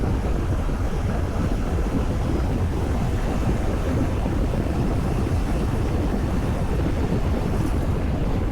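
Strong wind buffets the microphone on a moving Suzuki V-Strom 800 DE motorcycle in a steady, heavy roar, with no voices, the rumble staying constant throughout.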